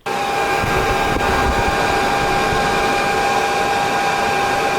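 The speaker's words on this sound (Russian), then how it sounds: "С этим пропеллером, что установлено на моем вентиляторе, на максимальных оборотах слышен страшный свист." A steady, loud whir of a ventilation fan at maximum speed, its propeller producing a persistent high whistling tone, unbroken from start to finish.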